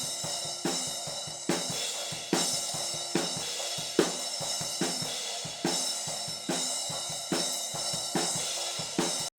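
Drum kit played through a pair of Cascade M39 small diaphragm condenser overhead mics, with bright cymbal wash over a steady beat of kick and snare hits, close and loud, no talk.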